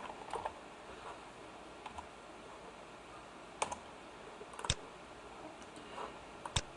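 Quiet, sparse keystrokes on a computer keyboard, a few isolated clicks and short bursts spread unevenly against a faint background hiss, with no talking.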